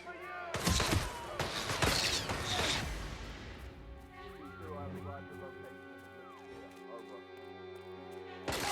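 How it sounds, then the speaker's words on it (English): Rapid gunfire rings out in the Hitman 3 video game, a burst of loud sharp shots early on, followed by ringing electronic tones and low rumble while voices speak. "Someone's firing a gun or something."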